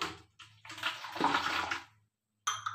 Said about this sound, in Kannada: 1 ಗ್ಲಾಸ್ ಬಿಸಿ ನೀರು ಹಾಕೊಳ್ಳಿ